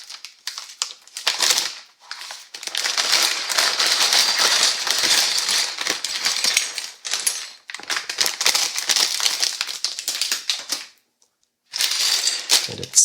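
Small plastic bags of pieces are opened up close, with loud bursts of crinkling and crumpling plastic that start and stop and are broken by brief pauses.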